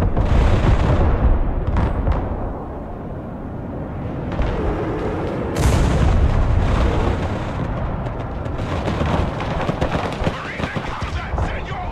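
Explosions from a bombing run in the war game Broken Arrow roll and crack in heavy, overlapping bursts over a rumbling battlefield, with a voice talking partway through.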